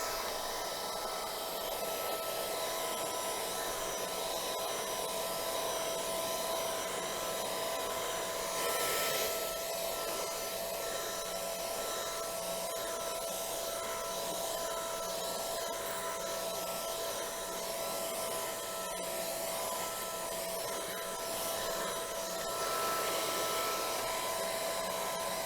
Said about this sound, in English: let's do a bit of vacuuming, shall we?